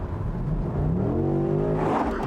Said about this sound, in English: the M850i convertible really sprints off the starting line